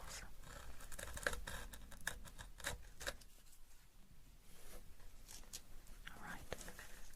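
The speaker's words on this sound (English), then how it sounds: "I'm using a craft knife," A craft knife slices through paper in short scratchy strokes, close and quiet, with soft whispered talk running over the cutting.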